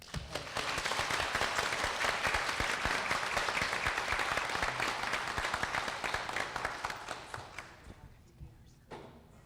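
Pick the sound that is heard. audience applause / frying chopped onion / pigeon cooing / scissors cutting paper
audience applause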